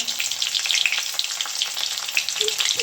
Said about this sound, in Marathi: आधी हा जो कांदा आहे ना कांदा टाकतो परतून घेतो